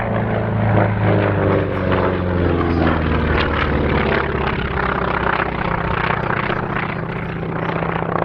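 A Grumman FM-2 Wildcat propeller fighter flies a display at the Duxford D-Day 75 air show, its radial engine droning loud and steady throughout, with the pitch gradually shifting as it passes.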